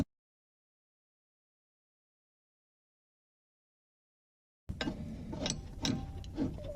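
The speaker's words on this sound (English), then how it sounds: "we are just going to be ratcheting it out of there using the crescent wrench." Dead silence gives way to a run of close, metallic ratcheting clicks as a wrench backs out a front control arm bolt on a 2004 Subaru Outback, lasting about two seconds.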